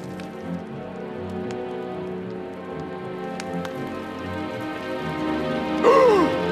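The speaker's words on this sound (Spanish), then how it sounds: "¡Llueve a cántaros!" Heavy cartoon rain pours down steadily in an autumn scene from Masha and the Bear, a constant wash with a brief louder swish near the end.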